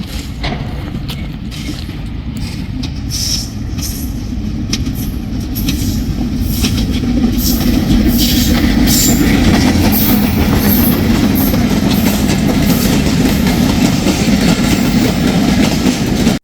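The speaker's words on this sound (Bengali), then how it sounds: "আমরা দাঁড়িয়ে থাকতে থাকতে দেখেন ট্রেন চলে আসছে, তো আপনারা ট্রেনটা যাওয়া উপভোগ করুন।" A train rolling past close by, its loud, continuous rumble building and holding with rhythmic wheel clatter and faint metallic squeals, steady to the end and free of talk.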